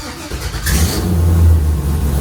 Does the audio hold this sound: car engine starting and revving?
yes